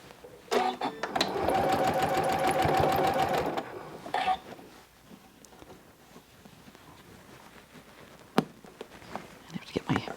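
A sewing machine top-stitches a quilt block onto clothing a quarter inch from the edge, whirring steadily for a few seconds with a short second run, then quiet handling clicks and rustles.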